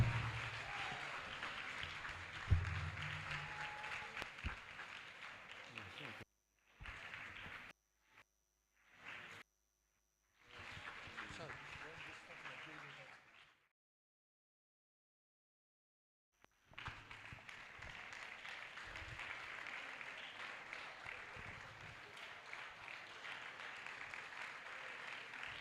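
An indoor audience at a counseling event claps for the compere, a dense, steady wash of applause that breaks off into several short gaps and silence before swelling again and continuing.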